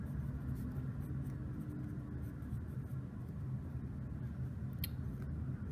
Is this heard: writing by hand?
yes